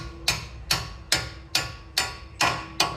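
A hammer tapping on a strut bolt during strut replacement on a 2012 Kia Sorento, seven sharp metallic taps in an even rhythm about half a second apart, close and loud with brief ringing after each.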